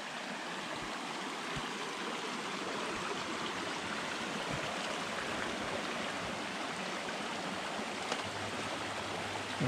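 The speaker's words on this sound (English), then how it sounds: "Ah, Dead Man Creek." Dead Man Creek on the Colorado Trail, segment 6, rushing in a steady broadband wash of flowing water, close and continuous with no voices.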